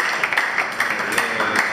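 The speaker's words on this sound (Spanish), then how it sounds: "Otro aplauso." A small group gives a short round of applause at a workplace birthday greeting, steady light clapping from several people at moderate distance.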